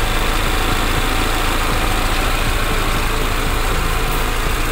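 A car engine being tuned at the carburetor, distributor and throttle, running steadily at about 1000 RPM with a loud, even mechanical hum and vibration throughout, no talking.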